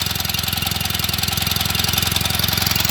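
A small Polski Fiat 126p engine idles steadily with a fast, even chugging rhythm, close by and with no voices.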